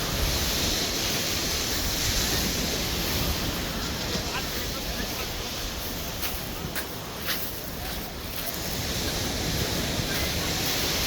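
Sea waves at Durdle Door beach wash in as a steady, dense roar of surf blended with wind noise, continuous and fairly loud throughout.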